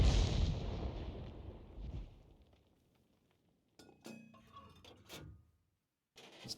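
A 105 leFH18B2 artillery gun firing in a tank video game: one loud, close blast at the start that decays into a long fading rumble, followed by quieter metallic clinks and clatter.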